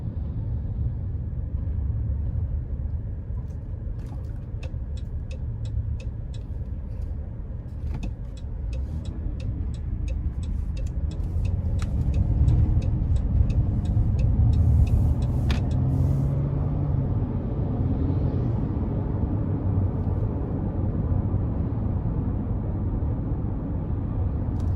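Road noise inside a 2020 Dodge Grand Caravan SE with the V6 on a drive: a steady low rumble of engine and tires, with faint light ticks and a slight swell in the middle.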